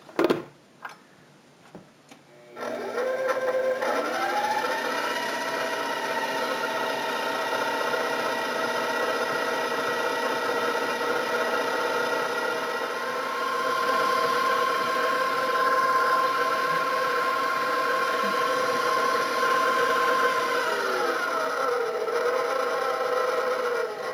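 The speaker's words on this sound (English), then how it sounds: "I'm going to put this on the mixer and I'm going to let it mix, just the butter alone" A stand mixer beats plain butter on its own for buttercream. After a few brief knocks, its motor settles into a steady, even whir that runs unbroken for about twenty seconds, close and moderately loud, with no talking.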